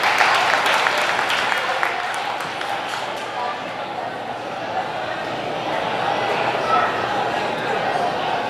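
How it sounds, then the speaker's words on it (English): An audience at a speedway awards banquet in the Wichita Union Stockyards applauds, a dense steady clapping that fills the room and carries on evenly to the end. "Give them a big round of applause."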